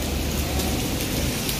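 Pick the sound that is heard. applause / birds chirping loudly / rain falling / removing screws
rain falling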